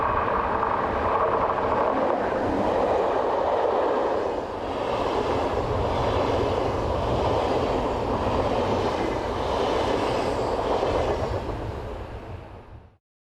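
Swiss electric locomotive 460032 hauls the 17:10 Basel to Chiasso passenger train past, a steady rumbling rush of wheels and motors that holds at moderate level, then fades out at the end.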